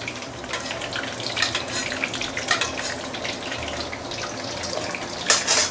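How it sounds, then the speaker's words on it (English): Meatball frying in a pan for a slow-braised Huaiyang lion's head, cooked on a Forge hob: a steady, close, dense sizzle with crackling pops, swelling into a louder burst near the end, no talk. "We can fry this meatball for probably about 2 or 3 minutes"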